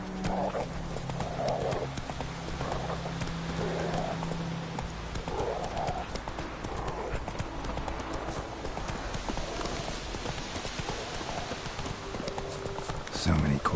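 Roach, the horse in The Witcher 3, clip-clopping along at a steady walk, its hoofbeats even and close throughout, with a brief neigh and game voices speaking over the hooves.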